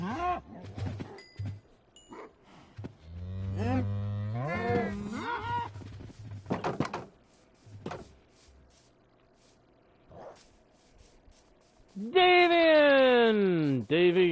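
Cows in Minecraft Bedrock Edition let out several drawn-out, wavering moos, separated by quiet gaps, with a louder, closer moo near the end.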